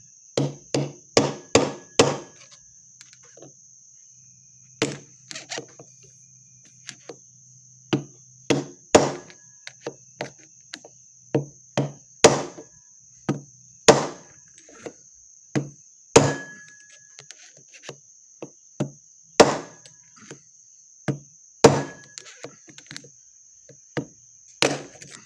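A hammer beats a bushing into a Ford 4R100 transmission during a rebuild, giving sharp, close metallic blows in uneven bursts with pauses between them, over a steady high whine.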